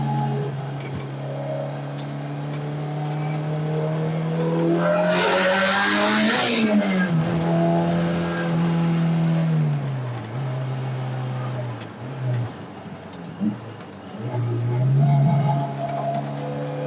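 A Honda S2000 track car roars loudly through a corner, tires squealing and skidding as the engine note swells, then drops with a gear shift and settles into a steady drone.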